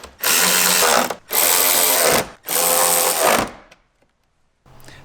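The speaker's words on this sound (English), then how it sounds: "using a Torx T40 bit, we're going to go ahead and secure all these bolts in place" A power driver with a Torx T40 bit secures bolts on a Jeep cowl in three loud, close whirring bursts, with a short pause before a fainter fourth starts.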